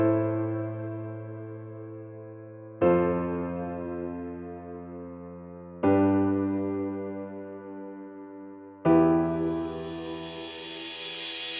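Piano chord progression with added bass notes, programmed in FL Studio: four sustained chords struck roughly every three seconds, each ringing and slowly decaying, with a deep bass tone under each, clean and alone.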